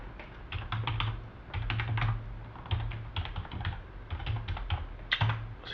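Fingers type a password on a computer keyboard in quick bursts of close, crisp key clicks separated by short pauses, with no voices.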